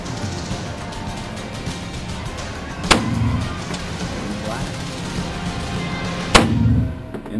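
Two sharp gunshots at an outdoor shooting range in West Yellowstone, each a loud close crack with a short rumbling tail, spaced a few seconds apart over a steady background hum.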